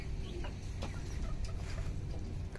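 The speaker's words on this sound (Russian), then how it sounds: "Куры разные." Caged chickens of various breeds cluck in a poultry yard that also keeps pheasants and guinea fowl, with short clucks rising over a steady, close barnyard din and no voices.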